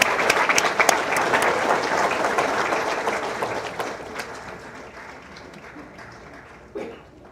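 Audience at a dean's breakfast applauding faculty and staff, loud sustained clapping from a crowded room that gradually thins and fades, with a brief final flurry near the end.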